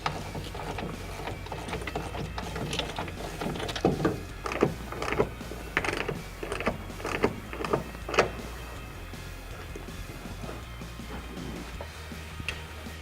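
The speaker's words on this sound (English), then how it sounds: "we're going to tighten the bolts on the coupling so that the cover is tied to the side rails on each side" Bolts on the couplings of an Extang e-Max tonneau cover are tightened with a ratchet, giving a run of close, quick clicking and metallic ratcheting bursts over a low background hum, then settling into quiet.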